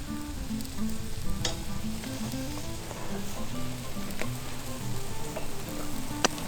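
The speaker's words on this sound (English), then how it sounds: "So we're gonna let this sear." Ribeye steak sears on a cast iron grate of a Goldens' kamado grill, a steady crackling sizzle of fat and juices with occasional louder pops, close and continuous without talk.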